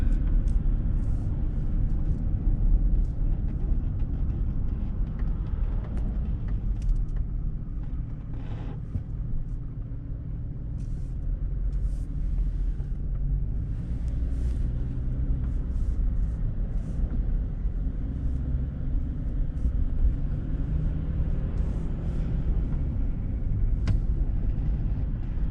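A car driving east past old rail stations near Hackettstown and Netcong gives a steady, continuous low rumble of engine and road noise. It stays close and even throughout, with no talk.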